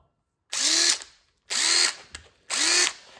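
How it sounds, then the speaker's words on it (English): A repaired Dewalt DCF885 1/4-inch cordless impact driver, fixed after water damage, runs in three short loud bursts of high-pitched whirring spin-up, each separated by brief silence, with a small click between the second and third bursts. "Tore apart and fixed a DCF 885 1/4-inch impact."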